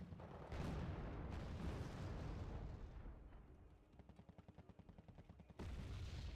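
Mortar fire in the wartime strategy game Wargame Red Dragon, with rumbling blasts and a continuous roar of distant explosions, then a stretch of rapid rhythmic thudding before another heavy burst, faint and without speech.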